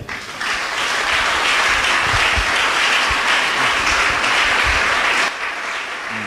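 A church congregation bursts into sustained applause, a dense roar of many clapping hands lasting about five seconds before cutting off abruptly.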